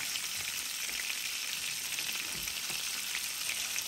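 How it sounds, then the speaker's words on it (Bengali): Onions frying in oil with cumin make a dense, continuous hissing sizzle that stays loud and even throughout, heard close with no voices. "পেঁয়াজটার আমি একটু ভাজি করি লই"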